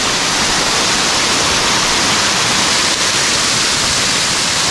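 Salad Dai waterfall at Khao Hua Muak pours in a steady, loud, full hiss and roar that stays unbroken throughout, with no talking.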